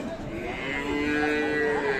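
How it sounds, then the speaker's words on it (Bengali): A Friesian cow with her calf lows at the Aftabganj cattle market in Dinajpur, giving one long, loud, close moo that bends in pitch over a background of market crowd noise. "এখানেও একটা গাভী দেখছি আমরা"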